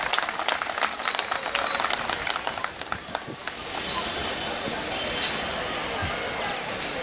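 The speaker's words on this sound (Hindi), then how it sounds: "आपकी ताली बतानी चाहिए कि आप कितना प्यार करते हैं।" An outdoor crowd at a poetry gathering in Soniya Vihar claps in a brisk burst of many hands that fades into a broad, noisy crowd roar, with voices talking over it.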